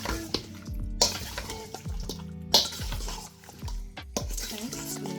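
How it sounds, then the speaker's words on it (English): Utensil stirring Jamaican brown stew chicken in a pot, with repeated scraping and clinking strokes against the metal at an uneven rhythm, close and fairly quiet, with a faint sizzle underneath. "Let's give it a stir, see how it looks."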